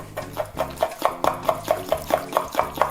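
An olive oil and honey dressing is mixed briskly in a bowl for a mango salad, with quick, even scraping strokes about four per second, close and steady, and no talking.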